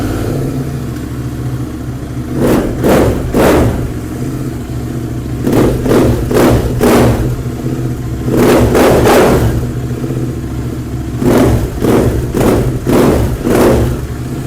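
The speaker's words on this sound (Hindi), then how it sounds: "आइए let's fire this thing up, सुनाते हैं आपको इसके एग्जॉस्ट की भी आवाज़" Superbike with an aftermarket exhaust, shown at a Delhi used-superbike sale, revving loudly in four bursts of roughly three sharp blips each, with the engine idling between them and no talk.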